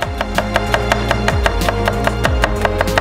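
A knife chops crushed garlic cloves on a board in a home kitchen, a steady, rapid run of sharp close knocks over a low background hum.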